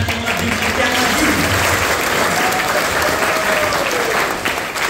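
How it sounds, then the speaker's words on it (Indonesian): An audience at a public university lecture breaks into loud, sustained applause, a thick wash of clapping with faint voices mixed in underneath. "kita beri tepuk tangan yang lebih yang lagi"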